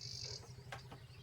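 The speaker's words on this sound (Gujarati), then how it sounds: "પક્ષીઓનો કલરવ" A few quick, faint bird chirps ring out over a soft, steady insect-like hum in a quiet village outdoor setting.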